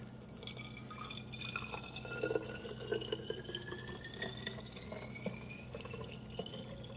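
Kombucha pouring into a bottle in a home kitchen, a faint, continuous trickle with small drips and a gently rising filling tone as the bottle fills, heard quietly with no voices.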